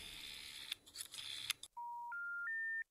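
Old telephone dialed in the horror adventure game The Cat Lady: a rising sequence of three clear touch-tone beeps, each stepping higher in pitch, after a brief burst of busy clicking noise.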